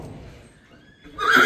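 A horse foal gives one loud, close whinny near the end, rising suddenly out of a quiet, low background.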